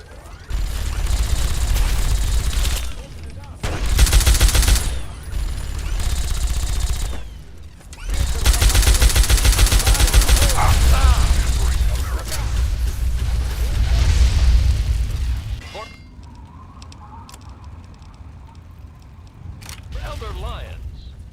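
Heavy gunfire and explosions during the final battle for Project Purity in Fallout 3, with sustained bursts of shooting and booms broken by short pauses, plus a commander shouting orders.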